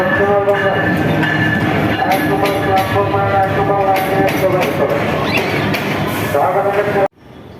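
Train noise at Dhaka Airport railway station: a loud, continuous rumble and rattle of rail cars fills the scene, with a voice talking over it before a sudden cut near the end.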